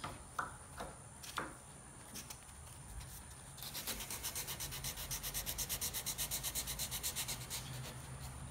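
A small ding is rubbed out of a handmade knife with a few quiet, scattered scrapes, then a steady run of fast, evenly paced abrasive strokes, close and soft.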